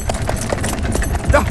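A horse sets off, hooves clip-clopping in a quick, uneven rhythm close by, with a brief louder knock near the end and a little background murmur.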